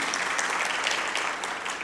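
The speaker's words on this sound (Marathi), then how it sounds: "टाळ्या वाजून पुनश्च आपण त्यांचं अभिनंदन करूया" Steady, dense applause from a gathered audience at a congratulatory event fills the whole short stretch at even loudness, with no talk over it.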